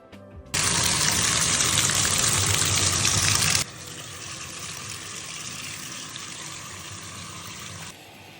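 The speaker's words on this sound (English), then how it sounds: "I'm going to rinse these out in the bathtub." Water gushes from a bathtub faucet while black walnut dyed fabric is rinsed, a loud steady rush for a few seconds that drops to a softer continuous flow before stopping.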